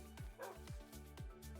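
A dog barks in the video game Battle Builders: short yips and barks that repeat over a steady game music bed.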